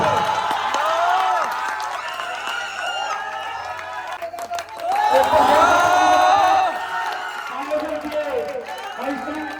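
Crowd applause and cheering at a village children's program, a dense, steady spread of clapping mixed with voices and whoops, loud and close, rising in a second swell midway.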